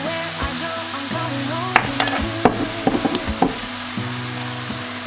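Beef sizzles and fries in a pan while being stirred, with scraping spoon strokes and a few sharp knocks as Worcestershire sauce, ketchup and other ingredients are added, all under a steady frying hiss and tonal background music.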